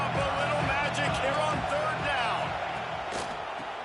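Auburn football stadium crowd roaring during a college game against Florida, a dense, sustained wash of cheering and shouting that stays loud throughout, with a commentator's voice heard over it.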